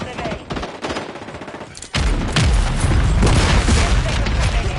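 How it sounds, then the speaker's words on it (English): Explosions from a friendly mortar strike in the Call of Duty MW3 video game, with a quieter stretch of scattered shots giving way to a loud, dense barrage of booms and rapid gunfire, continuous and close. "Friendly mortar strike on the way"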